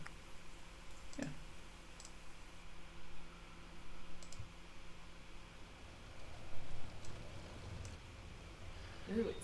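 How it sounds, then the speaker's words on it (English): Rain falling on a roof, playing as ambience in a Roll20 tabletop game session: a faint, steady hiss of patter with scattered small ticks and clicks, no voices. "it's raining a little differently now"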